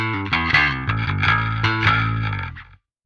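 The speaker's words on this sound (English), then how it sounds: "this is how the Dynamic 57 sounds on the left cabinet" An electric guitar plays a short distorted riff through a Parallax X cabinet simulation captured with a Dynamic 57 mic, with chugging palm-muted low notes and bright chords that ring out briefly before a clean stop.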